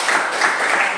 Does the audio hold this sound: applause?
yes